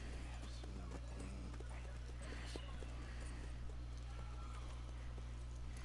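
Horse hooves clip-clopping in Red Dead Redemption 2, with a new horse being bought: soft, close hoof clops scattered under a low steady hum, while people talk over them.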